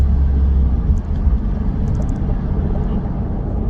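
A 2020 Chevrolet C8 Corvette convertible drives with a steady, loud low engine rumble and road roar that stays constant throughout, with no talk over it.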